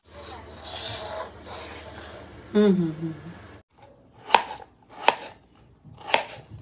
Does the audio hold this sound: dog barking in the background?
no